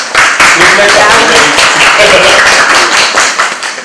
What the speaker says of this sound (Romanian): Puteți să-l aplaudați.